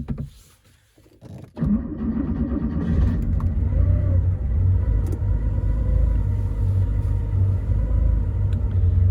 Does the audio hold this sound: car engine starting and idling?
yes